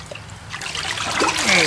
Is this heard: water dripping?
yes